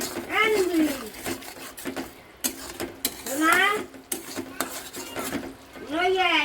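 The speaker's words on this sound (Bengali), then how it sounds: "এবার এর মধ্যে হলুদ আর লবণটা দিয়ে দেবো। স্বাদ মতো লবণ, ভালো করে মিশিয়ে নেব।" Turmeric and salt being mixed into a pabda fish curry, with a utensil scraping and clinking against the pot in repeated strokes, close up, while someone talks over it.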